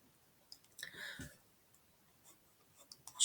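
Faint, scratchy strokes of chalk or marker writing on a board during an 11th-grade logarithmic equations lesson, with short bursts of scraping and a few light taps in a quiet room.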